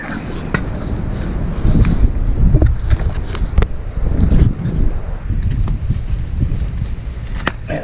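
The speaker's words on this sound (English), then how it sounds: "It is awful windy today." Strong wind gusts outdoors in an open field, a steady loud broadband roar with buffeting against the microphone throughout, and a few brief knocks in the mix.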